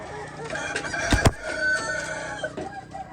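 White leghorn hens, young ready-to-lay birds, cluck and squawk close by, with a sharper call in the middle and steady background cackling from the flock.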